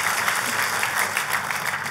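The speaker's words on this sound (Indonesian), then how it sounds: "Kasih tepuk tangan buat Tuhan kita yang luar biasa." A church congregation claps together in dense, sustained applause that fills the room evenly and steadily.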